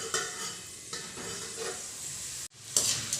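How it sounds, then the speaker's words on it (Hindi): Green peas frying and being stirred in hot oil in a pan, a steady close sizzle with scraping stir sounds and a brief clatter near the end, no voices. "मटर को भी फ्राई कर लेंगे।"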